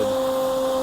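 Small electric motor of a 3D-printed RC stick airplane whining at steady throttle, a sharp sustained tonal buzz with a bright pitch line, close and loud for a brief moment.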